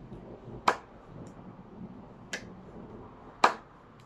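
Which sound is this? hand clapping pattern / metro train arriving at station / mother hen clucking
hand clapping pattern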